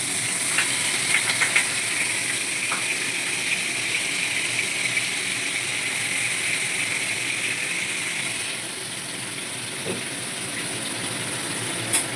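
Hot white cooking oil in a frying pan, a steady, close crackling sizzle with faint hissing that runs unbroken throughout, with occasional small pops and no talking.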